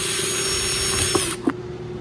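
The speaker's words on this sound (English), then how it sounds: "So let me drill this hole." A power drill bores a hole while building a simpler ejector chair; its steady motor whine runs for over a second, then cuts off, leaving a couple of brief knocks.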